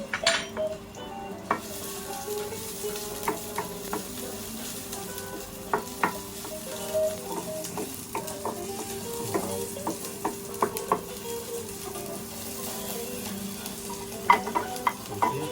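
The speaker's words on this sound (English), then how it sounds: "our pan is hot now, so we have to add our onion" Chopped onion hits olive oil in a hot pan and sizzles steadily throughout, with frequent clinks and scrapes of a utensil stirring it against the pan.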